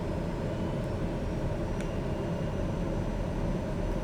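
A propeller aircraft engine in Microsoft Flight Simulator 2020 drones steadily, a loud, low, continuous rumble holding at an even level throughout with no voices.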